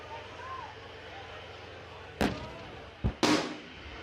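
A tank main gun fires during a tank biathlon shooting stage: two sharp, loud, distant booms about a second apart stand out over a quiet outdoor background.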